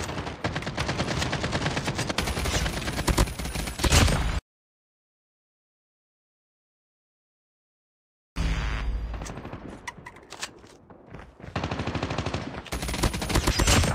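Rapid automatic RUS-79U gunfire in the mobile shooter game Call of Duty Mobile, dense and loud bursts filling the first four seconds, then several seconds of total silence before more sustained firing resumes.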